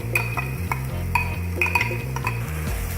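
Chopped onion sautéing in coconut oil in a hot pan, with brisk stirring clicks and scrapes of a spoon over a soft sizzle and steady low background music.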